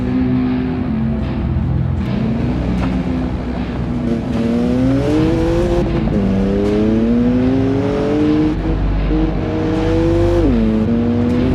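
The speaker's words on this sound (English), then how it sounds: "Peter witnessed two luxury cars, a BMW M4 and a Mercedes GLE, racing past him recklessly." Two luxury cars, a BMW M4 and a Mercedes GLE, race past at speed, engines revving hard with rising and falling pitch sweeps, loud and continuous, with a brief tire squeal.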